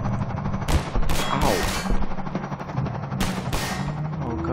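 Gunfire in the video game Half-Life 2 Episode 1, several loud automatic bursts cracking over a constant dense game din, spaced irregularly across a few seconds.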